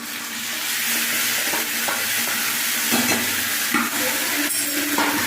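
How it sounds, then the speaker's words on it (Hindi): Onions, cinnamon and spices sizzling and frying in a pan for dhaba-style matar paneer, a steady loud hiss throughout with occasional soft stirring scrapes and no talk. "प्याज को हम भून लेंगे।"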